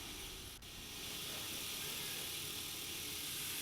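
A machine grinds material on its own with a steady, continuous, hissing noise that stays fairly faint and even, with no voices.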